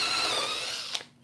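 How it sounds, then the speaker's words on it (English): A power drill whines steadily as it bores a hole through the top of a small wooden ornament cut from an old shutter, then cuts off abruptly with a brief clack, close by and alone. "drill a hole through the top"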